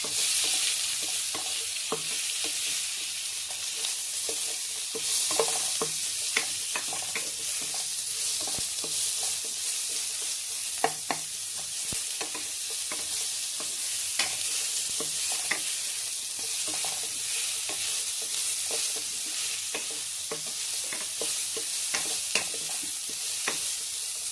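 Onions sizzle steadily in hot oil in a pan while a spoon stirs them with frequent scraping clicks, a continuous close frying hiss across the whole stretch with no talk.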